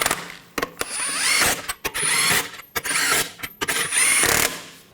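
A power tool buzzes in several short bursts as it snugs down wheel lug nuts on a 2015-2020 Cadillac Escalade, each run close and whirring with brief pauses between them.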